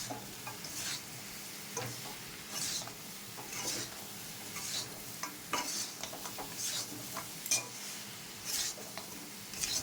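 Small gaja sweets stirred in sugar syrup in a pan, with repeated scraping and stirring strokes and a soft sizzle, recurring every second or so at close range, quiet and with no talk.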